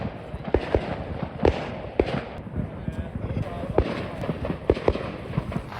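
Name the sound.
fireworks exploding at bonfire night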